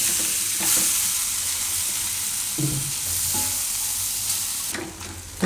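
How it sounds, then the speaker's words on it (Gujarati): Tomatoes cooking in a pan with roasted flour give a steady, close sizzle and hiss, with occasional spoon scrapes and clanks against the pan and no voices. "તો હવે એમાં આપણે ટમેટાં નાખી દઈશું. ટમેટાને થોડીક વાર પાકવા દઈશું આમાં."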